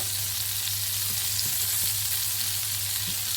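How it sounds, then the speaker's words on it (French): Toulouse sausages fry in a pan with shallots, a steady dense sizzle running the whole time with a low background hum and a few faint knocks. "on va retourner encore une fois les saucisses de Toulouse"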